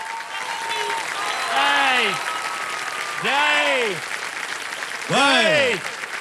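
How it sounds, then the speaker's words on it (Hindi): A studio audience on the KBC game show applauds loudly and continuously, with swelling bursts of cheering and tonal whooping and whistles rising and falling over the clapping. "जोरदार तालियां बज जाए इनके लिए."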